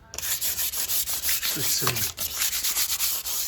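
A painted composite front door gets a light hand sanding with 300-grade paper, giving close, rhythmic rubbing strokes, soft and scratchy, with a few spoken words over the scrubbing.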